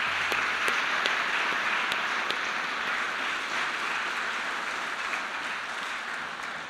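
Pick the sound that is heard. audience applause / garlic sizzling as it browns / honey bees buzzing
audience applause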